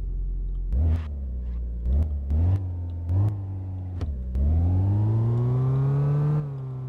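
A car fitted with a performance engine idles in a garage and is revved in several short blips, then held in one long rising rev before dropping back to a steady rumble.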